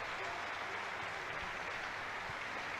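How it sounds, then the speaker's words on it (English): Football fans at a Dundee United versus Elgin City League Cup match applaud the substitutes behind the goal, a steady, distant wash of clapping from the stands with no breaks. "As the fans applaud the substitutes out behind goal"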